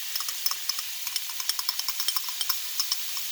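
Garlic browning in butter in a pan gives a light, steady sizzle dotted with quick crackling pops, fairly quiet and with no one speaking.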